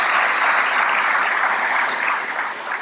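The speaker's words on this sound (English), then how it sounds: "Let's give him a round of applause as well." Dense, steady applause from a mosque audience honoring a visiting minister, a loud continuous wash of many hands that holds for nearly three seconds before thinning slightly at the end.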